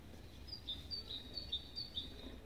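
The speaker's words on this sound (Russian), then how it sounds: "И поют птички." Small birds chirp outdoors under a clear sky, a rapid series of thin, high repeated notes in an even rhythm, faint and somewhat distant over low background noise.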